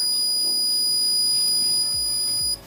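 A buzzer on a homemade remote-control device sounds as a steady high-pitched tone for a couple of seconds, then cuts off, alone with no talking.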